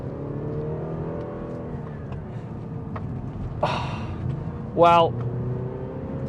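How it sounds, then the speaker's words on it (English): A modified Audi A6 Avant BiTDI pulls hard down a road, its diesel engine a steady low drone that swells into a short, rising rev burst near the end, with someone talking over it. "It's getting down this road quickly due to that mighty engine"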